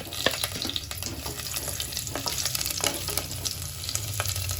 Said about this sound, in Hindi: सबसे पहले लहसुन डाल देंगे।